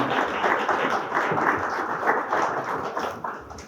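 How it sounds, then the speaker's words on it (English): Steady applause from a crowd, many hands clapping together in a dense, continuous wash for several seconds. "Let us give a big applause to Kathy."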